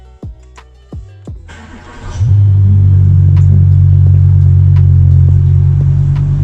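An Audi A6 engine cranks and catches, then settles into a loud, steady, close idle rumble, after a few sharp clicks and a short whirr beforehand.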